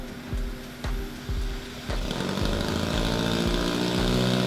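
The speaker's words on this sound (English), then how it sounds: "You can now hear that the agitator is spinning the material without affecting our piston pump building some pressure." A Graco Fire-Ball 300 airless spray rig's agitator churns undercoating material with a continuous mechanical drone, preceded by several rhythmic thumping strokes from the piston pump building pressure; no voices.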